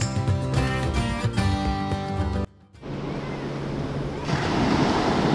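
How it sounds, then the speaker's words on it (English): Small waves wash onto an Atlantic beach on a warm May day, a soft continuous surf hiss with wind buffeting the microphone, following a brief stretch of tonal sound. "These are small waves."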